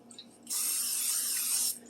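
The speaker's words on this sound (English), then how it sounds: "Spray your dish" Cooking spray hisses from a can onto a baking dish in one steady burst of just over a second, close and fairly quiet, with a faint background hum before and after.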